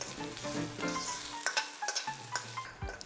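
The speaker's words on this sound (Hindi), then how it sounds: "इसको भी चलाएंगे इसके साथ और प्याज के साथ भून लेंगे" Ginger garlic paste, crushed ingredients and finely chopped green chillies frying with onions in a pan, a steady close sizzle with scraping stirs and soft clinks, no voices.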